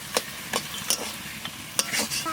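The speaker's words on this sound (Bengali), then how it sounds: "আমি মাছ কটা ভালো করে মাখাই নেই।" Small fish are hand-mixed in a bowl with onion, potato and green chili, giving several soft, close squelching and stirring strokes in an irregular rhythm, with no talking.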